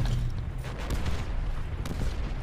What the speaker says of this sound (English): Well, I'm already being shot at.